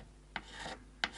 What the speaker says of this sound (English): I'm going to switch to the smoother side of the file for a minute and just do a little bit more here.